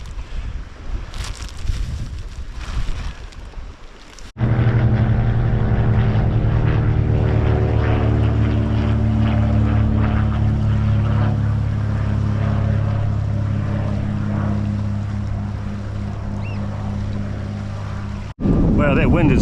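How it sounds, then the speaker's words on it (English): Strong wind buffets the microphone outdoors, a loud rumbling roar that runs almost unbroken after a brief gustier start, with a low droning hum mixed in. "that wind is pretty strong"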